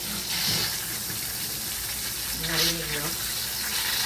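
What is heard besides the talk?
water running over pressure cooker to cool it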